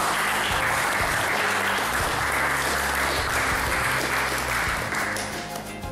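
Sustained applause fills a seminar room for Franck, a dense, even wash of clapping that stays loud throughout and eases slightly at the end.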